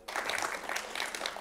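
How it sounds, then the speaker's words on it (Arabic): A studio audience on a children's TV show gives a child warm applause, steady dense clapping starting abruptly and continuing throughout. "تصفيقة حارة عليه."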